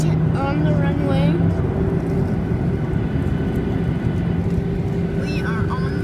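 Airplane engines drone steadily as the aircraft sits on the runway, a loud continuous hum with layered tones filling the cabin, while voices talk faintly over it.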